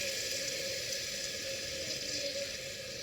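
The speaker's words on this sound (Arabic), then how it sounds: "نقلوها ونمرقوا لها ماء سخون" Hot water pours steadily into a cooking pot of frying soup base, a continuous even rushing and splashing at moderate level with no breaks.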